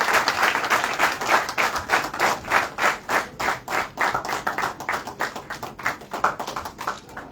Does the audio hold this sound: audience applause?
yes